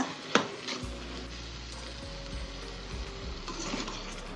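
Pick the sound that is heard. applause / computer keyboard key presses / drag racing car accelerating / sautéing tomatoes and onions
sautéing tomatoes and onions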